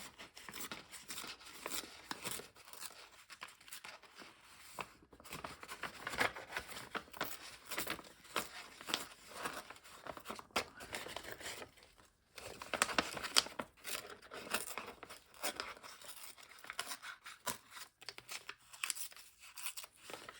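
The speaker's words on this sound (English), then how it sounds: "I will tear this edge also" Painted paper being torn along its edge by hand, with repeated short ripping and crinkling bursts in an irregular rhythm, close and fairly quiet, with brief pauses between tears and no talk.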